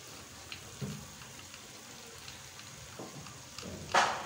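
Mutton ginger karahi sizzles in ghee in a pan, a quiet steady frying hiss broken by a few soft pops and stirring knocks, with one louder clatter near the end.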